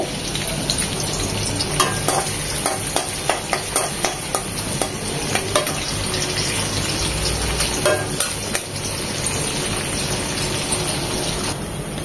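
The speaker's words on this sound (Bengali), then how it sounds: "দিয়ে দেব একটা আস্ত পেঁয়াজ কুচি, পেঁয়াজটা নরম হবে" Chopped onion frying in a pan for a magur fish and kochu curry, with a steady loud sizzle throughout and repeated scraping stirs breaking in at irregular intervals, no voices.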